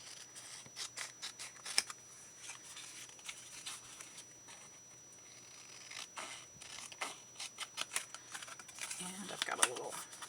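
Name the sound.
scissors cutting out part of a paper mini journal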